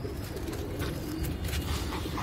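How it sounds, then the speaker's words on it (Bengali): A female pigeon coos softly in a low, rounded murmur, close by and steady for a couple of seconds, with faint bird sounds around it and nobody speaking. "এটা একটা মাদি পায়রা"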